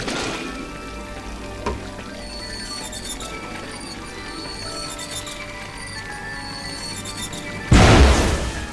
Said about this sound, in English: that explosion was completely... unexpected